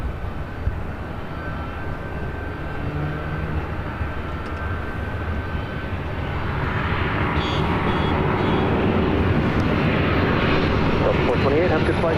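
Jet airliners roll and climb out at LAX, including a Boeing 737 on final for runway 24 left, their engines a broad, steady roar that swells louder past the midpoint, with radio talk heard over it.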